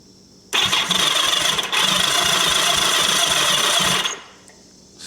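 The starter on a 1980 Kawasaki KZ750 motorcycle cranks the engine in one loud, continuous whirring burst of about three and a half seconds, then cuts off to quiet, with no ignition catching.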